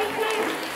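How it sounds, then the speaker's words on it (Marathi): A brief burst of audience applause at a Mangalagaur celebration, steady dense clapping that is close and fairly loud throughout the short moment. "जोरदार टाळ्या"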